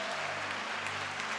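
A church congregation claps together for Jesus at a worship service, a dense, steady burst of applause filling the room for a moment with no voices over it.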